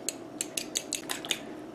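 Two fresh eggs, with a little leftover flour nearby, are whisked in a bowl, giving a fairly quiet run of quick metallic clinks and scrapes in an irregular rhythm, close and with no talking.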